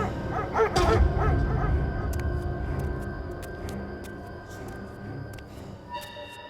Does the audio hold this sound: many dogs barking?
yes